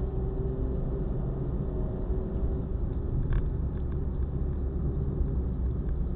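Steady low engine rumble from a car driven around Eugene, Oregon, heard from inside as it works through the gears, a continuous droning hum at constant loudness with no talking.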